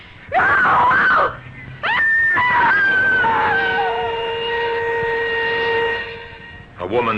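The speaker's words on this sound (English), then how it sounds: "A woman screamed and cried for help on the Wayfield Common" A woman in a radio drama screams and wails in long, loud, sustained cries of distress, with brief breaks between them, close up and alone.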